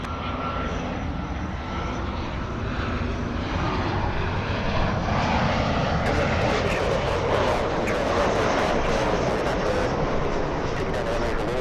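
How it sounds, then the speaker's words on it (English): A Southwest airliner takes off from runway 24 Left at Los Angeles International Airport, a steady loud jet engine roar that continues unbroken and builds slightly, heard from a distance with faint talk mixed in. "runway 24 left, clear for takeoff"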